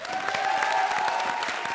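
Studio audience applause on a comedy show, a steady wash of many hands clapping with faint crowd noise and a sustained tone underneath, continuous and fairly loud throughout the short span.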